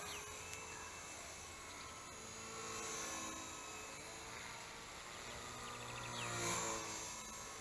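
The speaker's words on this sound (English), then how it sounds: "You notice the motor bogging more." A small HK250 RC helicopter's electric motor whines faintly and continuously at a distance, its pitch wavering as the head speed changes and the motor bogs.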